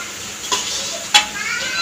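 Masala frying and being stirred in a pan in a home kitchen, a steady sizzle with two sharp scraping strokes of a spoon against the pan.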